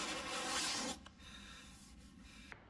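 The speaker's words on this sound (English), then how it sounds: "when you're sanding this veneer, you sand it nice and square. And I like to use a block." A steady abrasive rubbing of a sanding block on wood veneer, loud at first, then softer strokes continuing, close up with no talk.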